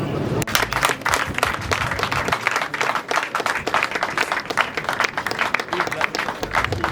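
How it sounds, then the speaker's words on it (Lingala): Applause breaks out at the funeral of a comedian as mourners stand to clap for the artist, a dense, steady patter of many hands sustained throughout, with voices mixed into the crowd noise. "est-ce qu'on peut se lever pour applaudir l'artiste?"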